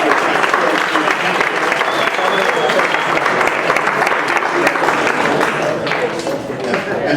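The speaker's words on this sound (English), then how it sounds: "Just a round of applause just for being out here." An audience at a sales talk gives a sustained round of applause, dense clapping from many hands that holds steady and eases slightly near the end, with some crowd voices mixed in.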